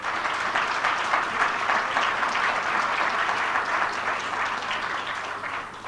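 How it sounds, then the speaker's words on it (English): An audience applauds at a lecture, a sustained, dense round of clapping that stays loud and even for several seconds before easing slightly at the end. "You give him a clap."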